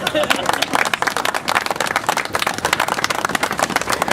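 Crowd applause and cheering greet the Mayor of Warwick, Scott Avedizian, at a Republican congressional campaign announcement event, a dense, steady wash of many hands clapping with voices mixed in throughout.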